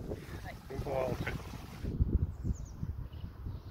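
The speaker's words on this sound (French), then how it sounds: "il y a un petit peu de vent" Wind gusts outdoors at a van-life camp, rumbling and buffeting low and uneven across the microphone, with a voice briefly heard early on.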